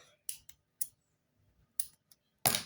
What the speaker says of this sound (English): if you can't cut with the shears, switch with the scissors